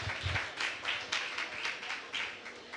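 An indoor audience applauds with soft, dense clapping that swells in uneven bursts, fairly quiet and somewhat distant, with no voices over it.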